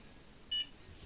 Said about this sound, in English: it's been making a couple beeping sounds